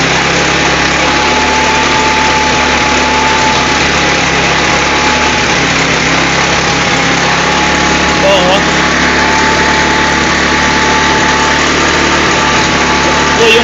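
A motorcycle engine runs steadily during stator coil troubleshooting, giving a loud, continuous buzzing drone with a faint whine and no breaks, close to the listener; someone talks over it.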